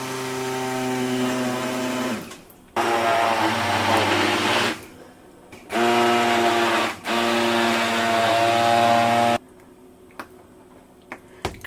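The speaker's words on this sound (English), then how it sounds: "And now we're going to blend everything nicely." A kitchen blender purées soft vegetables for soup, whirring loudly in three long bursts separated by short pauses, its motor pitch dipping slightly as each run ends, followed by quiet clicks.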